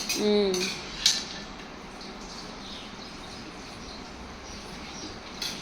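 A spoon scrapes and clinks against a pan while mango rice is mixed, a few sharp metallic taps early on, then quieter stirring.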